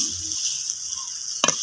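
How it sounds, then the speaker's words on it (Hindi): Kachnar buds fry in spice masala in a pan with a steady high sizzle, followed near the end by a short burst of stirring or scraping. "अच्छी तरह इसको भून लेना है मसाले में।"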